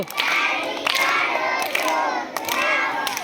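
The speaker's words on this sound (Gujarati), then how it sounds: "તાળી પાડો છોકરાઓ" A group of children claps hands in a loose, repeated rhythm during an action song, the claps mixed with lively shouting and chatter from the young crowd.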